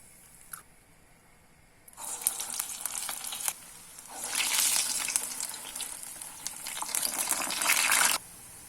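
Vada for curd vada deep-fries in hot oil, a loud crackling sizzle that surges in bursts as each batch goes in, dips briefly, then swells again before cutting off near the end.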